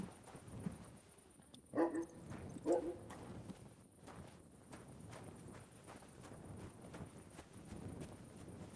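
Horse hooves clop in the medieval role-playing game Kingdom Come: Deliverance II, a faint, steady run of soft hoof falls against quiet ambience, broken early by two short, louder calls that sound like barks.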